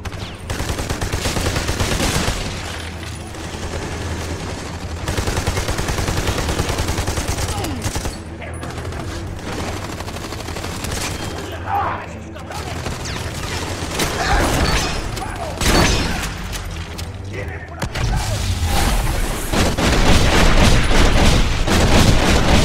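Dense, continuous gunfire barrage in the shooter Army of Two: The Devil's Cartel, with rapid bursts, booming impacts and mechanical clatter sustained loudly throughout, swelling heavier near the end.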